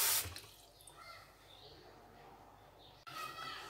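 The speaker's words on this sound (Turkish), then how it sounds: "Ve tekrar çeşmeden aldığım soğuk suyumu ilave edeceğim." Cold tap water runs from a faucet into a jar of peeled garlic pickle, a soft steady pour that fades, then a louder gush of water near the end.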